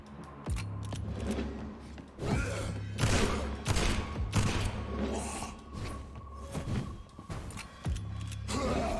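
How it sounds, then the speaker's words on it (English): Shotgun blasts in the vampire game Vampyr: several loud, sharp booming shots spaced irregularly over a few seconds, with thuds and clatter between them and no talking. "Take a shotgun to the face, sir."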